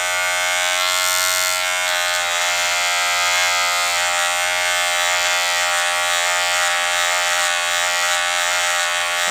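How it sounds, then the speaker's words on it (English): Electric hair clipper running with a bare blade and no plastic guard, giving a constant close, loud, harmonically rich buzz that stays steady for the whole stretch. "This right here is the clipper that has the blade that doesn't have the plastic."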